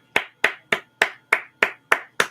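Eight sharp, evenly spaced hand claps from a single person, close and fairly loud, each with a quick decay and clear gaps of silence between them.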